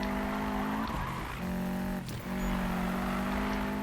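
Subaru WRX STI racing in Need for Speed 2015, its engine holding a steady loud drone with brief dips as it lifts off and shifts near the 1 and 2 second marks, no voices.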